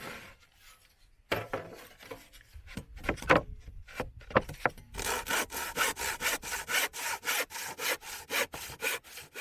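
Steady back-and-forth sawing through wood, close by, after a few scattered knocks and scrapes; the strokes settle into a regular rhythm with no talking.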